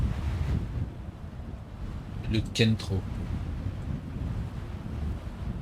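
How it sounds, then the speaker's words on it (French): Wind blows in the ARK video game map while flying on a pterodactyl, a steady, loud rushing roar throughout, with someone briefly speaking over it midway. "Oh, il y a du vent."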